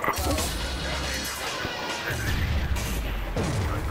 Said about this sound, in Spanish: Joder, qué explosiones, tío. Parece que se va a acabar el mundo.